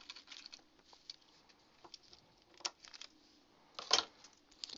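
Small snips and crisp patters as a tiny piece of material is cut for a mini clipboard photo frame craft, a few faint close clicks with one sharper snap near the end.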